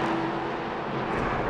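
A number 59 RLR M Sport race car lapping the Portimão circuit, a loud sustained engine drone held at steady revs and close by for a brief moment.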